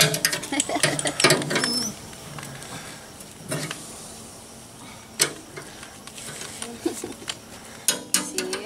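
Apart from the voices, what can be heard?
tightening a bolt while repairing a wheelbarrow wheel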